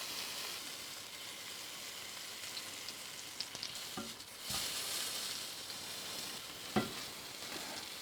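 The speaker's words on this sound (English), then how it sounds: "So we sear the other side as well." A bone-in steak sears in a hot pan, a loud continuous close sizzle and crackle with occasional scrapes and knocks as it is turned with tongs, no talking.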